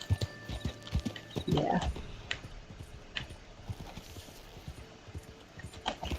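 Hooves clip-clop beneath a horse-drawn wagon in the video game Red Dead, a soft uneven trot with a brief whinny, quiet and close, and a man murmurs a single word.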